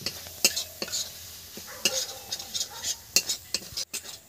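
Spoon scraping and clinking around a pan as cumin powder is stirred into spices, irregular metallic taps and scrapes over a soft sizzle, close and fairly quiet.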